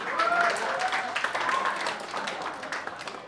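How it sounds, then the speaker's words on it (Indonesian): A stage-show audience claps in a brief, dense burst of applause that fades slightly over about three seconds, with faint background voices and a few whistles. "Tepuk tangan dulu."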